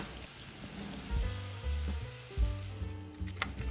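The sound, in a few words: Korean potato pancake frying in pan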